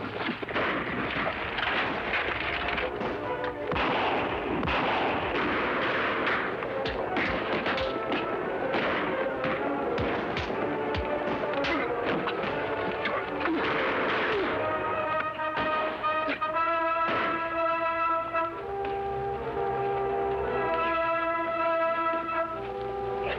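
Radio-drama gunfire from a western posse shootout, with dense bursts of booming shots and crackling reports over a rumbling scene, then giving way to a steady musical tone in the final stretch.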